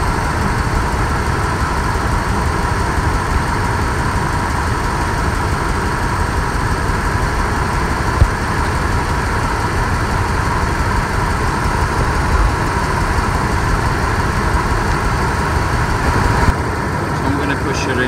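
A 1999 Ford Expedition's 4.6L V8 idles with a misfire, giving a steady, close engine rumble with faint irregular ticks that runs unbroken throughout.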